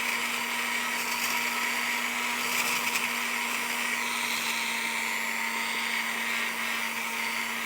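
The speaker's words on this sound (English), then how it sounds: "we're just using a silicone wheel to smooth out the tops and the sides now of the ring here" A silicone wheel on a rotary tool polishes the tops and sides of a hard-soldered ring, a steady high motor whine with a constant hum under a gritty, slightly varying grind, close and alone.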